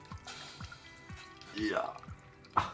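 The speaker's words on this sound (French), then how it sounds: "On verse donc nos déchets. Nous avons les déchets de 2 kg de pommes." Apple peel and core scraps from two kilograms of apples poured into a pot of water with a whole lemon for homemade pectin: a short run of drips and soft splashes, then a brief rushing pour and a final splash, close by and fairly quiet.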